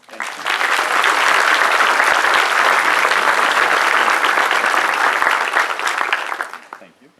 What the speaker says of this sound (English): Please join me in saying thank you with a round of applause.